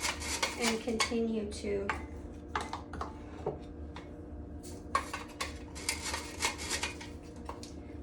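A sifter works flour for a vegan strawberry shortcake, giving close, uneven metallic rattles and taps against a bowl, with brief quiet gaps and a voice speaking briefly.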